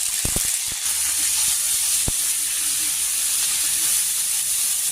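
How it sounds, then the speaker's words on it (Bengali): Ginger and cumin frying in hot oil with dried red chillies for a paneer curry, a steady loud sizzle and hiss with a few sharp clinks of a utensil early on. "একটু ভেজে নিচ্ছি আদা জিরাটা"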